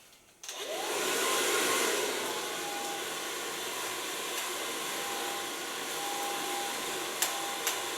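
A hair dryer blows steadily and loudly while drying a wolf-cut bob with pink and red highlights, running continuously for several seconds with a couple of brief clicks near the end and no talking.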